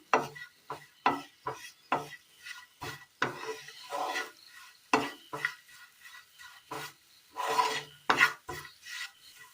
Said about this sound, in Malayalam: മുളക് പൊടി ഇട്ട് കൊടുത്ത് നന്നായി ഒന്ന് ഇളക്കിയെടുക്കാം